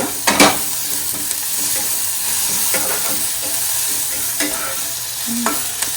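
Onion frying in a pan for tomato coconut chutney, a steady close sizzle with scraping stir strokes at intervals and no talk.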